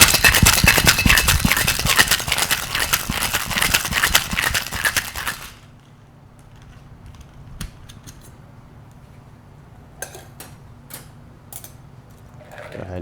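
A cocktail tin packed with ice is shaken hard for about five seconds, a dense close rattling that stops abruptly and gives way to quiet room sound with a few faint clicks.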